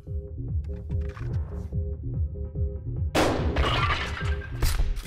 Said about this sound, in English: Now I'm gonna shoot him.